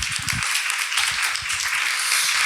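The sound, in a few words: audience applause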